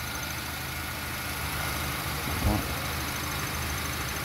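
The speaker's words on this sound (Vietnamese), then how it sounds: "máy nổ cực kỳ là êm rất là chất" A manual Honda Civic's engine idles steadily and smoothly close by, an even low rumble with one brief soft bump partway through.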